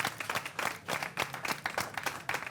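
Studio audience applause at the opening of a French TV show, rhythmic, fairly even group clapping at moderate volume with a brief overlapping voice.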